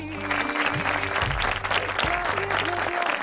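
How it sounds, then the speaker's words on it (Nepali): An audience on a singing competition show applauds for a judge, a steady wash of clapping with a faint voice or tone weaving through it. "म्यामको लागि ताली यार"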